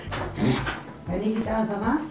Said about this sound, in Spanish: mi perro se ahoga